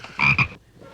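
A frog croaks once in a close, loud double pulse, with no voices around it.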